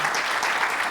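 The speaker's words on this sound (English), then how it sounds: "So I also want to give a clap to the team," Applause from the audience at a credit union's annual meeting: a steady, dense wash of many hands clapping, even and sustained throughout.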